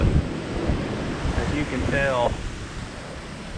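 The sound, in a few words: strong wind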